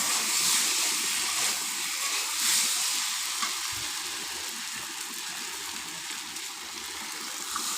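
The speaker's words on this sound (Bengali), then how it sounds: "আলুগুলো একটু মশলার সাথে ভালো করে কষিয়ে নেব" Pre-fried potatoes sauté with spices in hot oil in a pan, giving a steady, close hiss of sizzling with soft stirring scrapes that eases slightly toward the end.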